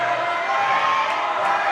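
A crowd at a European Youth Bouldering Cup competition in Kaunas cheers and shouts steadily, a sustained roar of voices with a few higher whoops.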